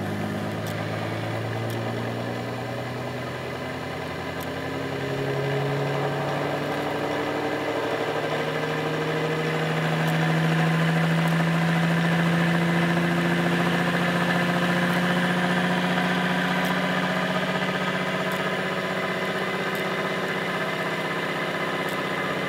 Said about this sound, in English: This is the motor I just built.